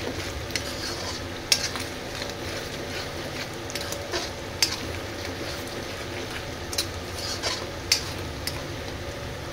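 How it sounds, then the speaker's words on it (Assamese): Onion frying in a pan for a meat curry gives off a steady, close sizzle, punctuated by sharp clicks and scrapes as it is stirred, with no talking. "এটো পিয়াজ ভাজিছো পিয়াজটো ভাজি লৈছো"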